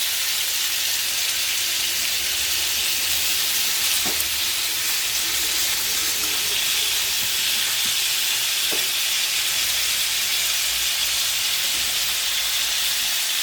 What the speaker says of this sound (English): So we're just letting it cook, moving it around until it's all crispy and wonderful